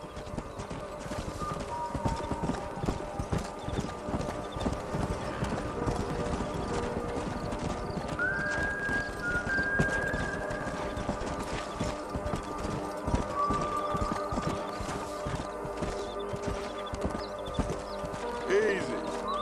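Horses in Red Dead Redemption trot with steady clip-clop hoofbeats and let out occasional whinnies, close and continuous over a busy outdoor game soundscape, with brief voices now and then.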